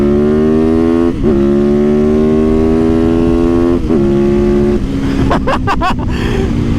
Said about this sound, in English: Oh, the power on this bike